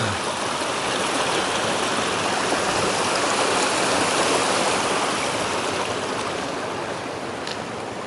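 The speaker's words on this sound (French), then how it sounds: "Un joli petit coin de rivière où on a fait trempette." Steady, loud rush of a small mountain river flowing over rocks on the GR20 trail in southern Corsica, continuous broadband water noise close by with no voices.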